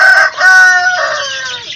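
A single loud rooster crow, close by, a long drawn-out cock-a-doodle-doo with no other sounds around it, at a home where chicks are hatched.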